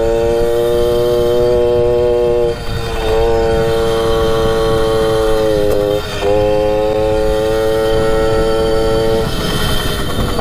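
A Suzuki JR 50 dirt bike engine drones steadily while being ridden, a loud buzzing tone that holds pitch with brief dips as the throttle eases, close and continuous without talk.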